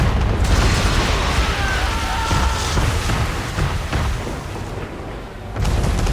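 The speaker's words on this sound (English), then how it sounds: "We're under attack! Man of war's firing!" A man-of-war warship fires its cannons during a naval battle in Assassin's Creed 3, a loud, sustained rumbling roar of blasts and crackling debris that fades slightly before swelling again.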